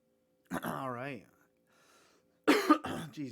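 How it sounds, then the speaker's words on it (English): Two short throaty coughs from a man, one early and another after a pause, close and fairly loud in a quiet room. "All of a sudden now I get a cough."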